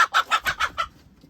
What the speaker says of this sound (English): She's about ready to squawk because she don't like it when I come in the box.